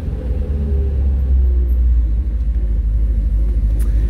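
A 1970 Shelby Cobra GT500 fastback's V8 idles with a deep, loud, throbbing exhaust rumble from the mufflers, steady and close throughout.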